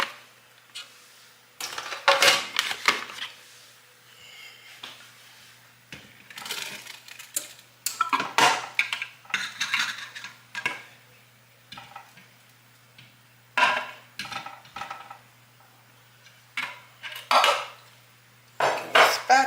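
A spatula scrapes and scoops baked lasagna out of a pan in a series of sharp, close scraping and clinking bursts separated by short pauses, with no talking.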